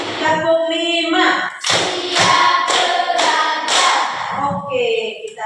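Students in a classroom clap in unison in a regular beat, about five loud claps in a row, with chanting voices around them.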